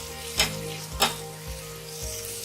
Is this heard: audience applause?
no